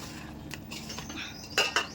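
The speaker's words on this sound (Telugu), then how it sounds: "ఈ ముక్కకి అంతా అంటుకునేటట్టుగా అటు ఇటు కింద నుంచి పై వరకు ఇలాగా కలిపేసేసేయండి చక్కగాను" A spoon scrapes and clinks against a bowl while mango pickle pieces are tossed with spices, several soft stirring scrapes followed by two sharper metallic clinks near the end, close and quiet with no talk.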